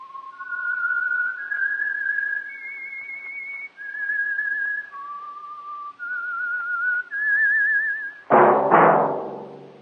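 A clear, melodic whistled tune of sustained notes steps up and down, close and alone, ending with a sudden low thud.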